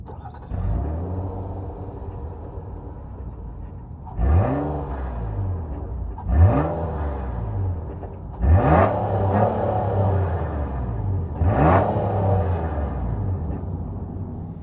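A 2022 Nissan Pathfinder SL with a 3.5-liter V6 starts and idles, then is revved four times in evenly spaced bursts, each rising and falling back to a steady idle, heard close and alone.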